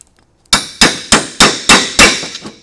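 A hammer strikes a 12 mm Mac Tools extractor socket down onto a bolt, six sharp, loud metallic blows at a regular pace with brief ringing after each, close and alone after a moment of quiet.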